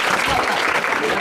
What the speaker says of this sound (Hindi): दीपक कुमार के लिए एक बार जो ताली होना चाहिए।